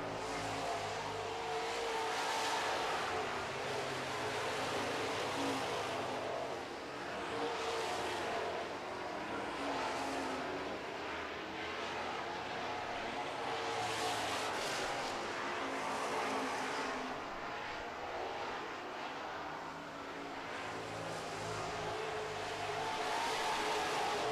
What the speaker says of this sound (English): just 5 laps to go is the number 2 of Jamie Vernos in the Dynasty Bathroom Super Truck.